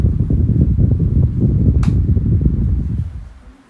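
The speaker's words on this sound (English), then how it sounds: "This fan has a really decent oscillation." An oscillating electric fan in oscillation mode runs with a steady, close whooshing hum of spinning blades, a brief light click near the middle, then winds down toward the end.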